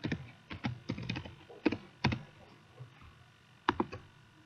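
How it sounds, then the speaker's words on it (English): Password being typed on a computer keyboard, a few quick bursts of close, crisp key clicks separated by short pauses, then two final taps. "if I can type our password right"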